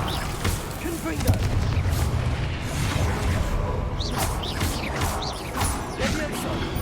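The Confringo blasting spell fires in Hogwarts Legacy, a dull booming burst with crackling debris layered over steady game ambience and music.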